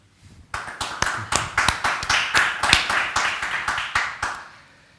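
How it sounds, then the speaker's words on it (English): Audience at a sustainable finance panel event claps after the panelists are introduced; distinct near claps, fairly few hands, a steady rhythmic round lasting several seconds before fading. "give a warm round of applause to both of them"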